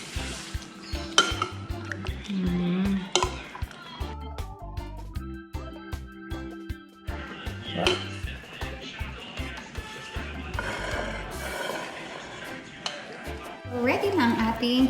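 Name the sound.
mixing fish for kinilaw in a bowl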